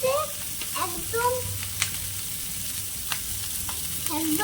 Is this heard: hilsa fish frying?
yes